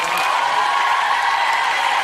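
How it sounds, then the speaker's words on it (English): A studio audience at a television talent-show results broadcast claps and cheers loudly and continuously, a dense wash of applause with whoops mixed in throughout. "A big round of applause for Lloyd."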